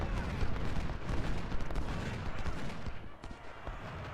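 Cannon and rifle fire from a Civil War battle at Malvern Hill in the strategy game Ultimate General: Civil War, a dense, steady roar of overlapping distant shots and booms with no clear pauses.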